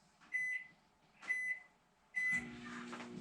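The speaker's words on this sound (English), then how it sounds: "We put 2 sticks of butter in this here. We're going to throw that in the microwave." A microwave oven melting two sticks of butter gives three short, loud electronic beeps, evenly spaced about a second apart, then its steady running hum begins.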